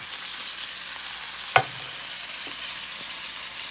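Oil sizzles steadily in a pan as something fries evenly on each side, a constant close hiss broken by one sharp knock about halfway through.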